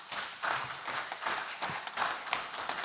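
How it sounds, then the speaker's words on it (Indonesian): Applause from a seated audience at a district council plenary session marking a regency anniversary in Southeast Maluku, steady dense clapping filling the room with slight swells, no voices over it. "Tepuk tangan Ohoy Letman."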